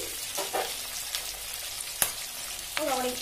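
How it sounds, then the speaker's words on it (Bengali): Hilsa fish pieces sizzle in hot oil, with a steady crackling hiss under sharp pops and spatters of oil and a few clinks of a utensil against the pan. "ও বাবা, ছিটে ছিটে আসছে তেল"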